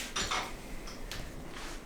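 Dishes, pots and cutlery being washed, giving a few light clinks and clatters over a steady background hiss.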